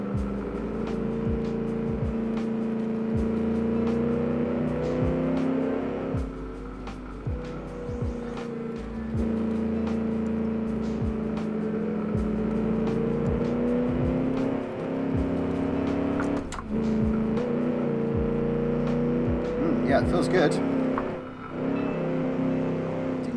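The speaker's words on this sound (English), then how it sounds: "So let's go for a cruise in the nice GT car." A GT car engine in the racing game Automation, a 1946 Gasmea, humming at a steady cruise with rising and falling revs, close and continuous, broken by occasional gear shifts and brief clunks.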